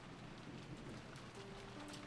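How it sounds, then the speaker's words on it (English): Rain falling as a sound effect in the Umineko When They Cry visual novel, a soft, even hiss of drops pattering steadily and faintly throughout with no voices. "listening to the sound of the rain"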